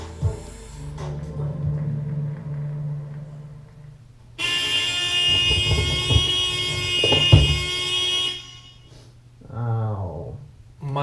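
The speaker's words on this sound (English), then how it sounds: "the noisiest and horniest alarm clock that you have ever had" A car horn wired to an alarm clock blares as a loud sustained honk for several seconds, preceded and followed by quieter talk and a shorter tonal burst near the end.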